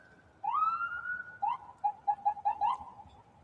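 An emergency vehicle siren, ambulance or fire truck, sounds in San Antonio, Texas, in the evening near burning brush: one rising wail, then a quick run of short yelping chirps, moderately faint and with no voices.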